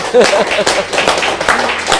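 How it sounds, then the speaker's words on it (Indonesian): Audience clapping at a public-service award event in Jakarta, a short burst of applause beneath a speaking voice. "Kita tepuk tangan"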